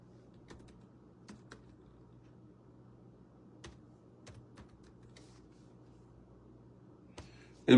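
Someone types quickly on a computer keyboard: sparse, scattered key clicks over a steady low background hum, followed by a louder bump right at the end.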